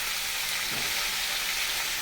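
Pieces of bhetki fish fry in hot oil, giving a steady, close, even sizzle and crackle throughout, with no voices.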